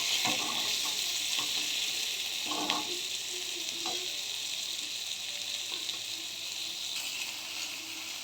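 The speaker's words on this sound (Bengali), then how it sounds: "আমি এই সময়তে আলুগুলোকে একটু ভেজে নেব।" Potatoes fry in hot mustard-tempered oil in a pan, giving a steady close sizzle with occasional scraping stirs and light clinks, alone without talk.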